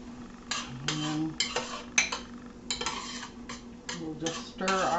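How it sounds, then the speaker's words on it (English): Onions being stirred in a pan for spicy chile verde, a busy run of close scraping and clinking of utensil against pan, with repeated knocks and a faint steady hum underneath. "We'll just stir our onions around here a little bit"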